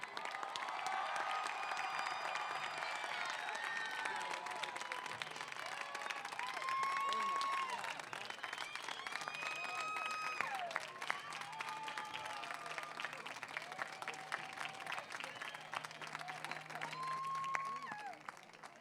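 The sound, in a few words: audience applause for graduating class at commencement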